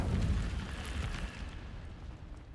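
An Incendio fire spell goes off in Hogwarts Legacy as a deep, rumbling whoosh of flame that bursts loudly at once and then slowly fades over two seconds.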